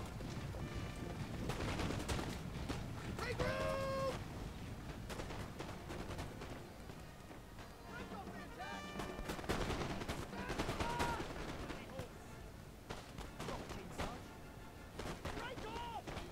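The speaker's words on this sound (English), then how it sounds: "I'm shooting them." Musket volleys in the Napoleonic strategy game Napoleon Total War, rolling crackles of infantry fire layered under battlefield din, with a voice talking over parts of it.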